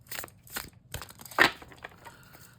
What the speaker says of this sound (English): It shuffles all right.